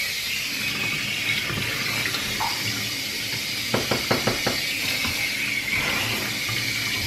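Running tap water rinses a Shih Tzu during a bath, a steady close stream of water with a short series of splashy pulses midway as water is squeezed down the dog's body.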